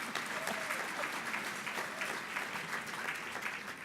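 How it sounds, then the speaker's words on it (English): Sustained applause from a breakfast audience at a charity anniversary event, dense and steady for the whole stretch, with a faint voice or two in the background. "I feel like the applause got a little more serious"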